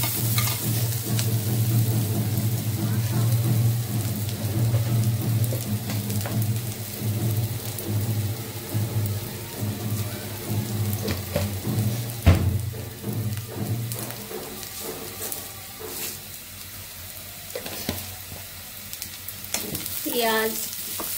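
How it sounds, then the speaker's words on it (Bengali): Lentils (dal) frying in oil in a home kitchen: a steady crackling sizzle with stirring scrapes and occasional clatters running throughout, over a low continuous hum, with no talking. "এই যে ডাল তেলে দিয়ে দিচ্ছি"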